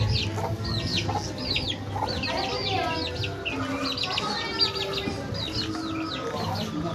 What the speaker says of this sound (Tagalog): Yun guys, kulungan ng manok.